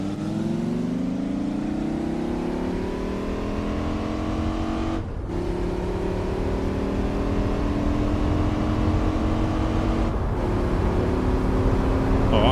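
A race car engine in Gran Turismo 4 drones steadily and loudly at high revs, pitch climbing slowly, with two brief gear-change dips, heard alone without talk.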